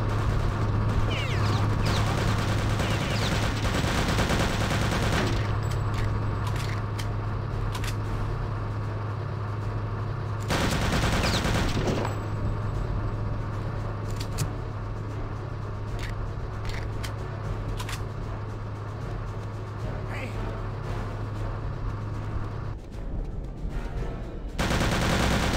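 Dense, sustained gunfire from Return to Castle Wolfenstein, a World War II first-person shooter, with continuous rapid automatic bursts and explosions at loud, steady level throughout.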